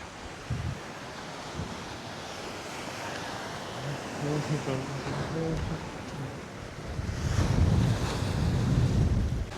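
Ocean surf rolling and crashing at N8 Beach, Thiruvottiyur, Chennai, with gusty wind buffeting the microphone, louder toward the end; a faint voice is briefly heard in the background.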